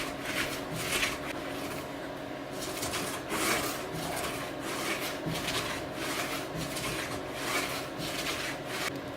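A Stanley 750 chisel is rubbed back and forth on sandpaper in a steady rhythmic rasp, each stroke a soft gritty scrape repeating about every second, close and continuous.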